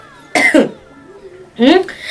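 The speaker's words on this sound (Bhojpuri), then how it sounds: "मम्मी खांसी होता का आपको खांसी ना होई" Two sharp bursts of coughing, each a quick cluster of rough hacks, close and fairly loud with a quiet pause between them, from a rural village household setting.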